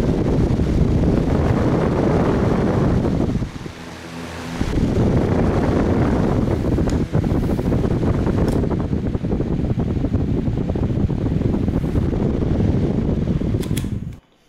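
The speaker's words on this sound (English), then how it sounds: "Now let's get some fan noise at full." A fan runs at full speed, a steady loud broadband whoosh with a brief dip midway before it roars back, heard close to the mic of a Sony HX9V camera.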